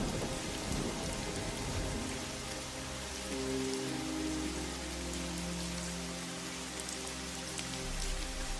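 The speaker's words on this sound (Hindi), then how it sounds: "तेज तूफान, आंधी और बारिश शुरू हो गई।" Heavy storm rain pours steadily, with dull low thunder rumbling beneath the hiss, constant and fairly loud throughout, under soft background music.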